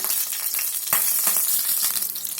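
Mustard seeds sizzle and crackle in hot ghee and refined oil on a tawa, a dense close frying hiss with a few sharper pops and no voices.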